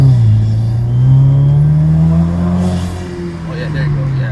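A Cadillac ATS with a ZZ Performance exhaust pulls hard under acceleration, its loud, rising engine drone and exhaust note heard from inside the car, with a voice talking over it.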